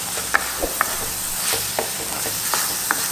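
Ingredients for a sea fish curry fry in a pan with a continuous close sizzle, punctuated by regular light clicks and scrapes of a spoon stirring.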